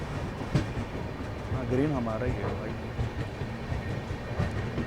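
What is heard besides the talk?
train running alongside, Kaifiyat Express leaving Aligarh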